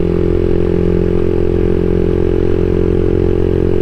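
A CSC SG250 motorcycle fitted with a MotoCult Stage 4 kit drones steadily at relatively high speed up a long incline, its engine note loud, close and unbroken.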